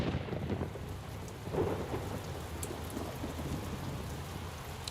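Thunder rumbles low and continuous beneath steady rainfall on a dark, stormy night in the Nancy Drew: Warnings at Waverly Academy video game, with a swell around the middle and faint scattered drops, fairly quiet throughout.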